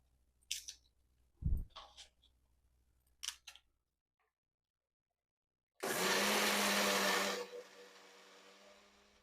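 A mixer grinder loudly grinds soaked black-eyed peas with green chillies for protein dosa batter, a dense whirring roar after a few clicks and knocks, starting abruptly and then easing into a steadier lower hum.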